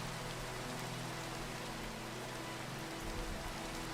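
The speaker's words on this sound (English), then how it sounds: "it is raining" Rain falls steadily in the Minecraft video game, a dense, even hiss of drops that holds at a constant level for the whole stretch with a faint low hum beneath, no voices.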